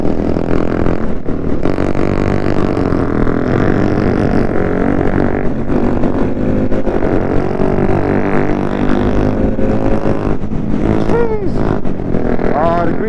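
Six Honda Grom motorcycles and a KTM run together at a drag strip, producing a loud, continuous blend of revving engines that climb and fall in pitch, with clattery mechanical noise throughout and a voice heard now and then.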